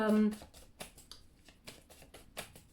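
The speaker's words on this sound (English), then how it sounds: "I shuffle the cards. You watch me. I don't sort of influence the cards in any way." Tarot cards are shuffled by hand in a string of crisp, papery riffles and taps at an uneven rhythm, heard close, after a brief voiced tone at the start.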